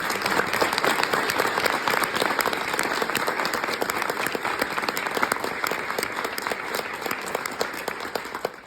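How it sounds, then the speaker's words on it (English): An audience at an award speech applauds, a dense, steady round of clapping that carries on evenly for the whole stretch before tapering slightly at the end. "everyone give a round of applause to the people who have gotten me here today"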